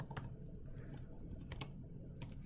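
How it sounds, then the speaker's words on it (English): Someone types on a computer keyboard at close range, a quick irregular run of light key clicks over a soft background with no voices. "So We're going to type in stock"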